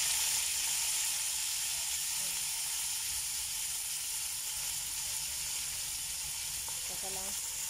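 Vegetables and mushrooms sizzling in a hot pan for fried rice, a steady loud hiss of frying throughout with a faint clink near the end.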